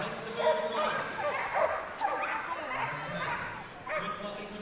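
Dogs bark and yip at a flyball team quarter-final at Crufts 2013, sharp repeated calls rising over a noisy indoor arena crowd while a commentator talks throughout.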